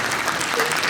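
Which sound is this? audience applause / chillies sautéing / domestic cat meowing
audience applause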